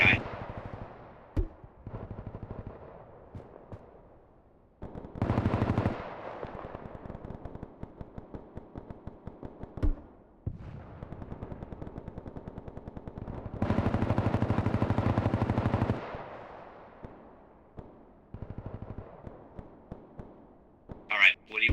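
Gunfire in the Bellum video game, sharp single shots and rapid automatic bursts in several separated volleys with loud sustained stretches, with people talking over the radio-like chatter between them.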